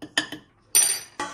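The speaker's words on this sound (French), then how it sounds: "Un peu de gingembre, un peu de curcuma et on va mélanger le tout." A spoon clinks in a bowl while salt, ginger and turmeric are stirred together: three quick clinks, then two longer scraping, rattling bursts close by, with no talking.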